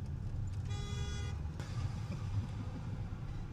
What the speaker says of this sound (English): Everybody's honking at you, Cam.